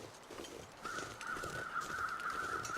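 Crows cawing over a carcass in The Long Dark's wilderness, a few harsh calls repeating at a distance over faint wind.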